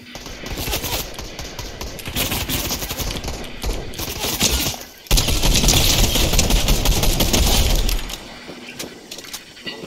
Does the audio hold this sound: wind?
no